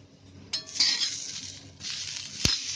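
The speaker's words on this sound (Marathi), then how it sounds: "झाकण खोलते." A metal lid lifts off a pan of shallow-frying ivy gourd with a clink, releasing a soft steady sizzle, followed by a sharp utensil tap near the end; close and fairly quiet, no talking.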